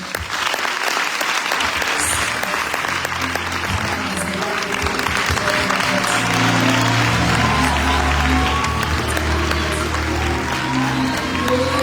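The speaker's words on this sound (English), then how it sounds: "I want us to clap our hands and celebrate our newly appointed leadership." A church congregation claps their hands together in celebration at an opening function, sustained loud applause that continues evenly throughout with a faint crowd murmur underneath.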